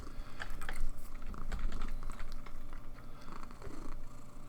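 A pet cat purrs softly and steadily up close, a low rhythmic rumble with faint scattered clicks alongside and no talking.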